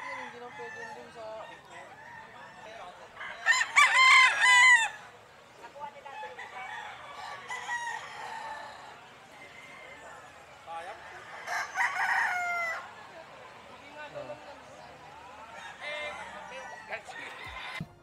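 Roosters crow at an outdoor Sunday pet market at the Grotto, two loud cock-a-doodle-doo calls rising clearly over a steady backdrop of crowd murmur and bustle, with a fainter third crow near the end.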